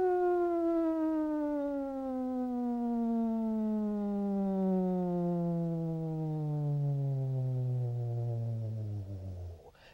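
A single sustained sung voice glides smoothly downward on the word "null" in a vocal function exercise, starting at a comfortably high pitch and falling to the lowest note over about ten seconds, steady and close.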